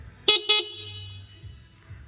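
Horn of a Venom X22GT 250cc water-cooled automatic motorcycle, two short sharp beeps in quick succession, close and loud, followed by quiet low idle noise.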